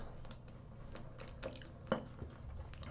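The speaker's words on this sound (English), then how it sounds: "We're gonna add a little more water. More water still." Water is worked into shaving lather, making faint squishy, wet smacks and a few small drips spread irregularly through a quiet room.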